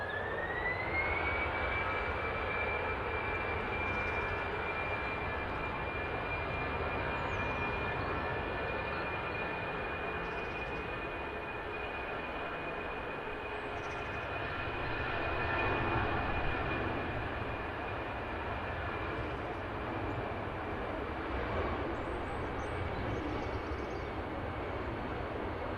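A Brussels Airlines jet departs Manchester Airport, its engines giving a steady distant roar with a sustained whine that holds for the full stretch without fading.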